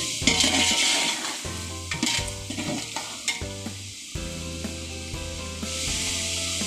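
Four kilograms of already-fried meat sizzling in a pot as spices are stirred in, a loud steady frying hiss punctuated by scraping and stirring knocks, close up.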